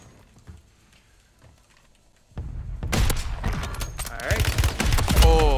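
Warzone gunfire bursts out after a quiet stretch of game ambience, loud and dense shots with mechanical clatter filling the last half, a few sharp reports standing out near the end.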